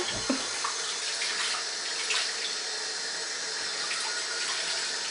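Shower water runs in a steady, hissing stream, loud and continuous, with a few faint knocks and no voices.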